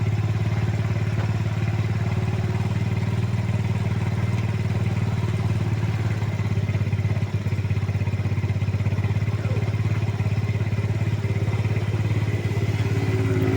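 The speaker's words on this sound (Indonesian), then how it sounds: "Nah, bisa kalian dengarkan ini mesinnya turun ya." A motorcycle engine idling steadily during a carburetor idle adjustment, a close, continuous low hum with light mechanical clatter and occasional small shifts in engine speed, no voices.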